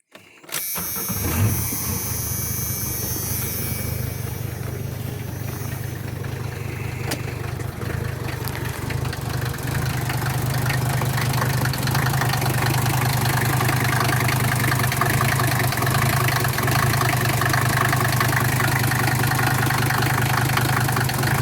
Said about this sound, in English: it's a loud engine, but you give it just a little gas, clears right up